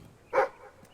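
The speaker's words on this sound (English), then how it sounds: "barking to indicate where the chickens are?" A single short bark from a dog in the video game Fable III, sharp and fairly close over a quiet background, followed by silence.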